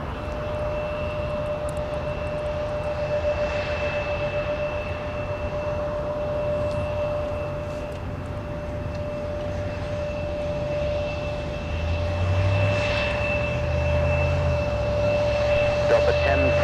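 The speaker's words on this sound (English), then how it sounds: "So there is our flight from Fort Myers, gracefully descending out of the sky." A Sun Country jet airliner arriving from Fort Myers descends to land at MSP airport, producing a distant, steady engine rumble that swells slightly near the end, with faint tonal hums running throughout.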